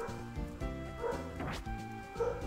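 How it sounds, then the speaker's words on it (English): A dog barks frantically in the background, with rapid repeated yips and whimpering barks running continuously through the whole stretch. "I really, really hope you can't hear my dog going frickin' apeshit in the background."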